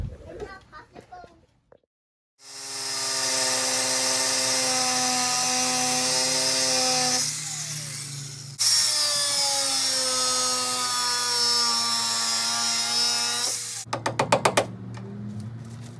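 A power cutting tool slices through the door hinge pins on a Chevrolet Silverado, giving a loud, sustained high whine that shifts pitch mid-cut and then cuts off, with a few metallic knocks at the end.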